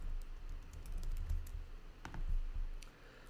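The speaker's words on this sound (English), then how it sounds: "let's just type out logo core again" Typing on a computer keyboard, a quiet, steady patter of soft key clicks close by over low background hum, with no voices.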